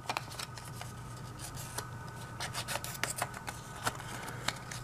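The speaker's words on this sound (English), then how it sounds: "lay the Post-it over the edge of a table and hold down firmly and tear it over the edge of the table" A Post-it note is torn against a table edge, giving a run of short, dry ripping and scraping bursts, close and fairly quiet, with no voices.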